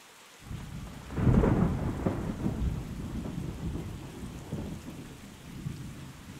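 Steady heavy rain with rolling thunder in a thunderstorm in the medieval role-playing game Kingdom Come: Deliverance, a deep rumble swelling near the start and then easing under the constant hiss of rain.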